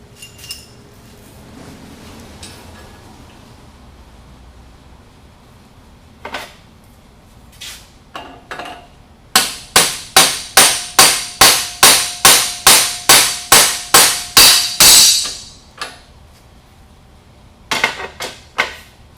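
A tapered roller bearing cup is driven in with a steel cup installer and handle. A few scattered metallic knocks lead into a fast, loud, regular series of about fifteen ringing hammer blows, then a few final taps, all close and without speech.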